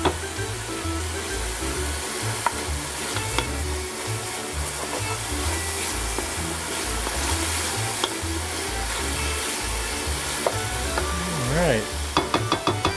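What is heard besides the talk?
tomatoes cooking in a pan for mussel soup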